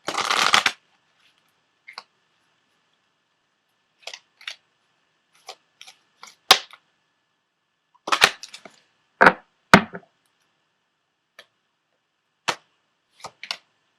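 A tarot deck being shuffled, with a long riffle at the start followed by scattered short snaps and flutters spread across the quiet.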